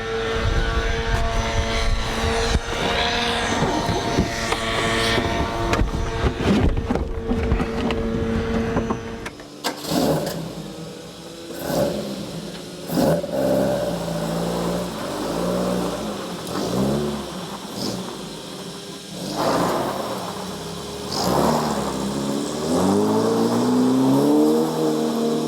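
Caterham kit car with a pushrod 1600cc engine, loud and close, roars with a rising rev run before settling into a lower, rhythmic engine note with repeated throttle surges as it pulls away and drives along the road.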